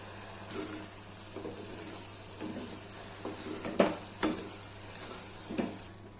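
Mutton keema simmers in a pan over a medium flame, giving a steady low sizzle and bubbling with a few louder stirring clatters near the middle; no one speaks.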